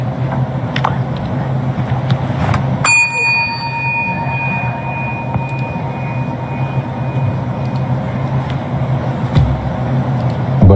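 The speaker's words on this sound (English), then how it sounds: "y'all hear that bell thing?" A single bell struck once, its bright tone ringing on and slowly fading for several seconds over a steady low background rumble.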